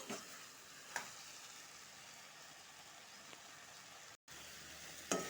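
Cashews and tender ash gourd greens fry in a pan as they are stirred, giving a faint, steady sizzle with a few sharp clicks from the spoon. There is a brief dropout near the end.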